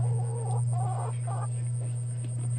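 Rhode Island Red chickens give a few short, close clucks over a steady low hum. The clucks come in quick, uneven bursts, and no one talks.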